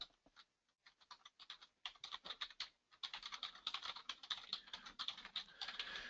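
Rapid, uneven clicking of keys on a computer keyboard, close and clear, a short burst followed by a steadier stretch of fast typing with no voices.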